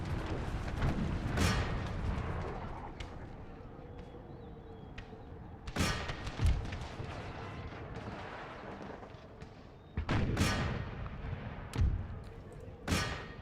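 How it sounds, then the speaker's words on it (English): Howitzer artillery fire in Empire: Total War, set in an American Civil War battle against retreating Union troops: several deep booming blasts at irregular intervals over a steady rumbling battle din, loud and fairly close. "Howitzers keep firing down on the retreating Union soldiers."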